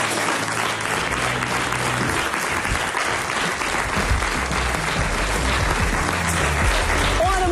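A television studio audience applauds warmly, a dense, steady clapping that holds at full strength for several seconds with no voices over it.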